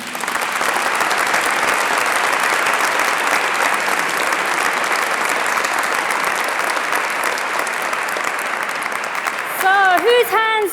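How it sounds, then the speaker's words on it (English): Sustained audience applause fills a large hall at a faith and belief community awards ceremony in Westminster Abbey, steady and dense for about ten seconds before a voice begins speaking over its tail. "Whose hands are hurting from all that clapping?"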